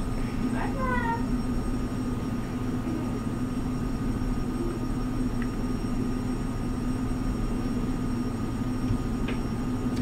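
A cat in the video game R.I.C.A. lets out a short falling meow early on, then faint chirps, all over a constant low mechanical hum.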